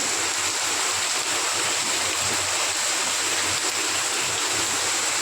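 Floodwater rushes around submerged house steps, a continuous loud broadband wash of flowing water with no break.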